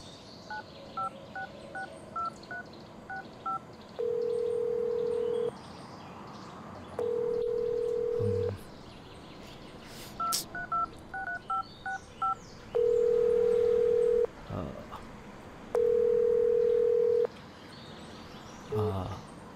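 A phone's ringback tone sounds in long, steady beeps repeating every few seconds, with quick dialing key beeps and faint background chirps before them.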